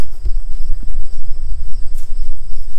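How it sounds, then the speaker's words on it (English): Frogs and insects trill in a steady chorus from a pond on the grounds of an abandoned castle mansion, loud and continuous, with faint rustling nearby. "I can hear frogs in the pond"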